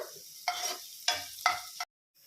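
Paneer rice ingredients stirred and frying in a pan, with three bursts of scraping and sizzling a few seconds apart, close and fairly loud, followed by a brief silence.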